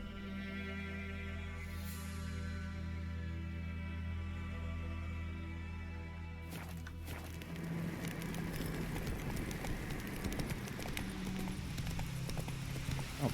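Horse hooves clip-clopping steadily in The Witcher 3 video game, a continuous even rhythm over a low droning game soundtrack that grows busier midway.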